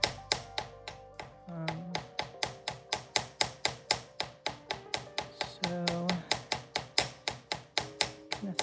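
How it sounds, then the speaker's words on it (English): A hammer strikes copper wire on a hard block to flatten and spread it for a wire-wrapped earring frame, a steady run of sharp ringing metallic taps, close and regular, some with a short pitched ring. "when you hammer, you kind of swipe the direction that you want your"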